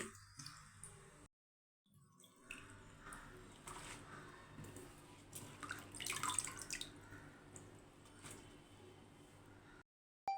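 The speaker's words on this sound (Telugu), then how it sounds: "పాలక్ ఆకులను నీళ్ళల్లో వేసి శుభ్రంగా క్లీన్ చేసుకోవాలి" Spinach (palak) leaves swished and squeezed by hand in a bowl of water make faint dripping, splashing and squishing sounds after a short silence, with a brief gap near the end.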